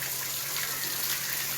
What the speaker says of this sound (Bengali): অকারণে 4-5টা কল খুলে রেখে দিয়েছে দেখুন